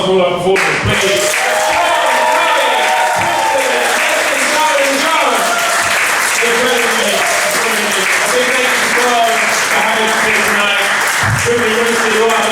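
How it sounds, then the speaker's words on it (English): An audience at a university comedy show applauds, with continuous, dense clapping that fills the room for about twelve seconds. Voices and cheers mix in over the steady roar of hands. "Give it another round of applause for all our performers, please"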